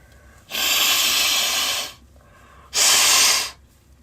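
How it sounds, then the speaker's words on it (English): A person blows their nose, two forceful breathy bursts of air through the nostrils, the first longer at about a second and a half, the second shorter, close and loud with a brief pause between. "When I blow my nose, nothing comes out"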